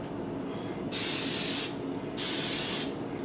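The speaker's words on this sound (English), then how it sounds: "Give her a light spray, keep it from sticking." Two short bursts of cooking spray hiss onto a George Foreman grill, each lasting under a second, close and distinct against a low steady background.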